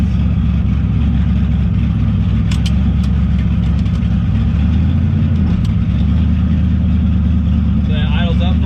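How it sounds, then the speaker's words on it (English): A twin-turbo 1969 Camaro engine idles in a loud, continuous low rumble that steps down slightly in pitch midway, with brief higher chirps near the end. "So it idles up for a little while,"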